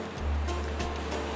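Ocean surf washes in a continuous broad rush, with a few soft swells rising and falling over a steady low rumble.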